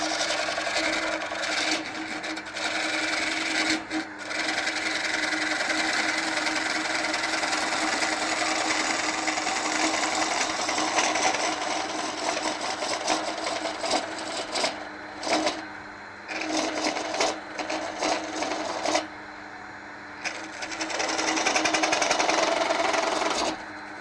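A wood lathe spins a piece of dyed pine while a tool faces off the end, making a steady scraping, rasping whir that runs for the whole stretch. The noise breaks off briefly a few times and then resumes. There is no talking.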